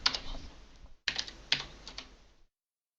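Code is typed on a computer keyboard in quick clusters of close, faint key clicks, with a short pause partway through before the tapping resumes and then stops.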